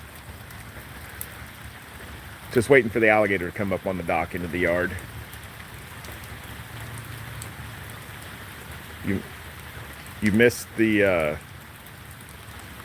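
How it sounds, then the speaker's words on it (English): Steady rain from Tropical Storm Elsa in Florida patters in the background throughout, with someone talking intermittently over it. "It's been raining."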